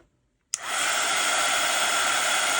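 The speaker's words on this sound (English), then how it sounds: "I'm going to hit this with the heat gun" A heat gun switched on to dry watercolor paint on craft paper, starting with a sudden click and then a loud, steady whooshing fan roar that continues unbroken, close up and with no talking.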